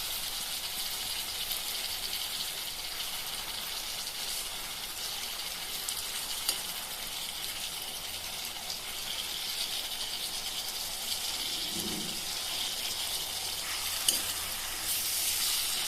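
Tomato frying in a pan for a fish fry dish, a steady close crackling sizzle that runs throughout with light stirring scrapes and a faint clink near the end.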